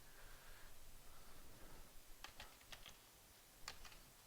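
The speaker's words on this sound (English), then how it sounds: "I've just typed in the colour here" Quiet, scattered keystrokes on a computer keyboard as a colour code is entered, a few isolated taps followed by a short cluster of clicks over faint background hiss.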